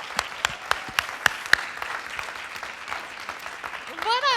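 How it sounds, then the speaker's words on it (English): An audience at a hair show applauds its guests, with sharp, close individual claps at first that merge into a steady ripple of clapping, ending as a voice begins speaking. "let's give you an applause"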